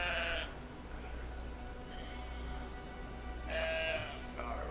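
In the video game Brothers, a sheep gives bleats, one at the start and a louder wavering bleat near the end, over a steady game background hum.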